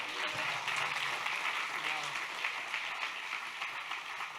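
A church congregation applauds during a Sunday evening worship service, steady broadband clapping at moderate distance that holds evenly for several seconds, with a faint low hum underneath.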